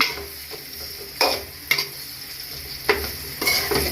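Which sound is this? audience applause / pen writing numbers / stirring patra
stirring patra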